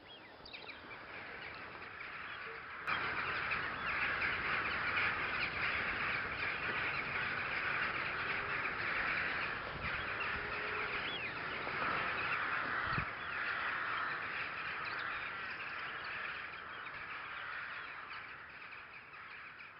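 Rooks calling at a large evening roost of a big colony: a dense, continuous chorus of overlapping caws from many birds, moderately distant and steady throughout with no talking.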